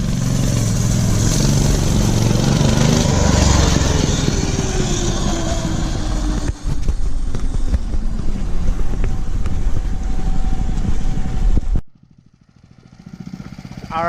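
Mega Moto 212cc minibike engine during a ride, a loud, close, rough drone with falling pitch as it slows, running steadily before cutting out sharply near the end.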